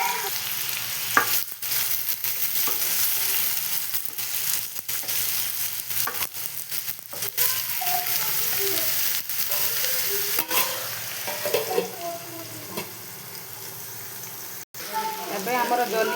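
Ridge gourd and potatoes fry in a pan with a steady, close sizzle, broken by repeated stirring scrapes and clatters throughout.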